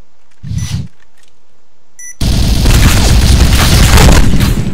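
Planted bomb in the video game Point Blank: a short thud, a few quick high electronic beeps, then a sudden loud, sustained roaring explosion that fills the rest of the clip.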